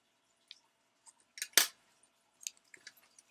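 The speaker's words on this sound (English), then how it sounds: "And there they are my scissors, so I can cut these babies up." Small scissors snip Jamberry nail wraps in a few sharp, quiet clicks, with one louder cut in the middle and faint handling sounds in a quiet room.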